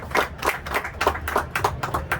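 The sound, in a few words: audience applause honoring award recipient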